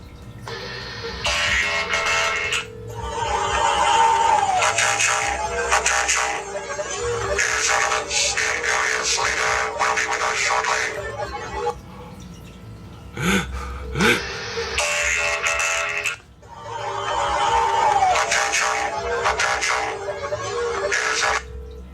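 A phone rings with a custom ringtone built from Cylon sounds from Battlestar Galactica. Bursts of dense electronic noise and tones repeat in a looping pattern for about twenty seconds, fairly loud and close, with no talk over them.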